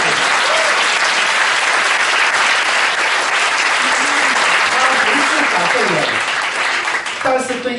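Sustained, loud applause from a concert audience at an Amis ensemble performance of tribal music and dance, steady clapping filling the hall with a brief tonal voice or instrument rising near the end.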